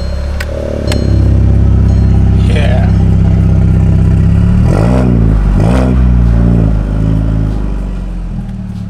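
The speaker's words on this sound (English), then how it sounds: "I just wanted to show Andre's car with the new electronic cutout in it." Andre's car revs with an HKS exhaust and its electronic cutout open, a loud, rising engine note that swells and dips in repeated blips across the whole stretch, close by.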